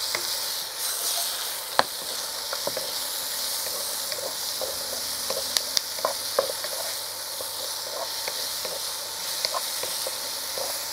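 Tomatoes, onions and garlic sizzle hard in a pan over high heat for a Chinese king prawn dish, a steady close hiss broken by small pops and stirring clicks, with no talk.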